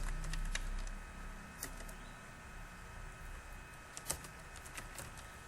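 Typing on a computer keyboard while entering values into an SQL table, light irregular key taps with a couple of louder strikes, close over a steady background hum, no speech.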